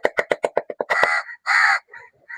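Crows caw close by, first a rapid run of about eight short, clipped calls, then a few longer, harsher drawn-out caws with brief gaps between them.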